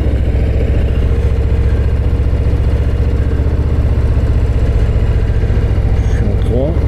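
A Harley-Davidson Low Rider ST motorcycle engine runs at about 1500 rpm on a ride up the Col de la Madeleine, a loud, steady low-pitched rhythmic thrum with a slight rise near the end.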